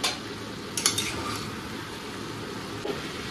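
A ridge gourd and prawn curry is stirred in a pot, with a few distinct clinks and scrapes of a spoon against the metal over a faint, constant bubbling simmer.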